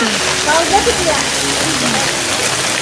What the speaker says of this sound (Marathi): खूप जास्त पाऊस आहे